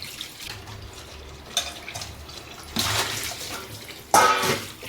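Fish being washed in water for frying, with splashing, running and pouring water in bursts, close and moderately loud, rising in a few distinct surges.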